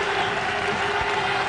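Crowd at the Ford County ground in Chelmsford applauding a batsman after a cricket innings, a steady dense wash of clapping with no pauses.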